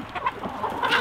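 Chickens cluck and murmur in short, overlapping calls on a Hmong American chicken farm, a busy cluster of hens heard fairly close with no talking.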